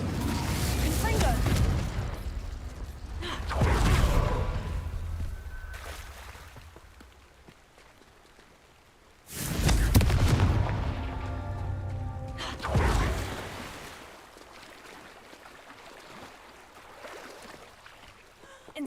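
Confringo, an explosive spell in the video game Hogwarts Legacy, goes off as two loud booming blasts with long rumbling decays, set among softer game sounds.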